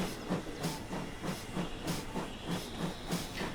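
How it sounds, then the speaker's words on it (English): A steam locomotive in the Railworks train simulator game runs with its injector on, giving a steady hiss over a rhythmic chuffing beat of about three to four beats per second, moderately loud and continuous with no talk. "So I will, in fact, put the injector on a bit."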